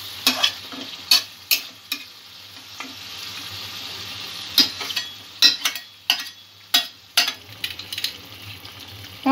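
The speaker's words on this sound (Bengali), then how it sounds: "চিকেনটা কিছুক্ষণ আমি আরও কিছু মশলা যোগ করে কষিয়ে নেব।" Chicken pieces with added spices sizzle gently in a pan for chicken kalia while a spatula stirs them repeatedly, producing a string of loud, close scrapes and clacks over a low frying hiss.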